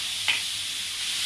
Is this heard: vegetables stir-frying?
yes